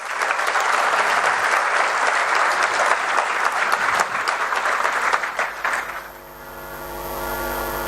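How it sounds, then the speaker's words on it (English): A large audience applauds loudly and steadily for Dr. Subramanian Swamy at the Saraswat BBA Odyssey XII college event in 2015, the clapping fading out after about six seconds into a quieter hum. "May I hear a huge round of applause for him"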